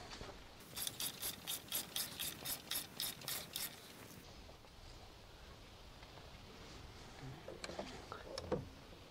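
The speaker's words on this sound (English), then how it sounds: "we'll adjust that tracking bolt next." A hand ratchet clicks in a quick series of about ten bursts while adjusting the bandwheel tracking bolt on an HD38 sawmill, close and moderately loud, then falls quiet apart from faint handling noises.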